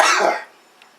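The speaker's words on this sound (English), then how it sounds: "Cough it out." A single short, sharp cough bursts out close by and fades within half a second, followed by near silence.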